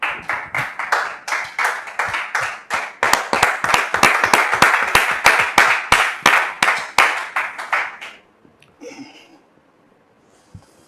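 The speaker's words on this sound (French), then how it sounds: "Le pasteur Haché que nous recevons sous vos applaudissements." Studio audience applauding to welcome a pastor onto a Christian talk show, a steady rhythmic burst of clapping for about eight seconds before it stops, followed by a faint voice.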